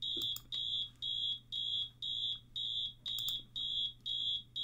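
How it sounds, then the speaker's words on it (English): A recorded fire alarm plays through a speaker, its shrill high beep pulsing in a fast, even rhythm about twice a second over a low steady hum, loud and alone. "It's a fire alarm I found on YouTube."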